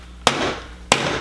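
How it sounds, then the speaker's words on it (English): Hammer striking the shell of a giant 15-pound lobster: two sharp, loud cracks about two-thirds of a second apart, each followed by a brief rattling decay. "So I had to get a hammer, guys, because he's too big and I can't"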